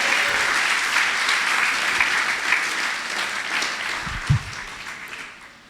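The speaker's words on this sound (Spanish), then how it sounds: "Dele un aplauso al que vive para siempre" Church congregation applauding together in a steady, dense wash of clapping that holds for several seconds, with a single louder thump near the end before the applause tapers off.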